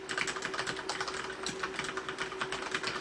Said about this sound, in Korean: 키보드 타이핑 할 때 소리도 좀 들려드릴게요.